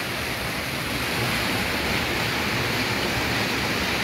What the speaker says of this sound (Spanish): aquí podemos ver este río